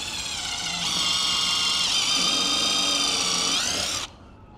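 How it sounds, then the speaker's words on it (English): A power drill fitted with a countersink bit drives a 2.5 inch screw into an exterior door frame, whining steadily for about three seconds, rising slightly in pitch, then stopping abruptly, with no talking. "we're going to put a screw in here, and I have this countersink bit right here"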